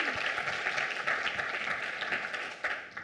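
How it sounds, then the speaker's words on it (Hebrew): Audience applause at the opening of a women's hacker conference, a dense steady wash of clapping that thins slightly toward the end, with a faint constant tone running underneath. "עוד סבב של כפיים לכנס האקריות"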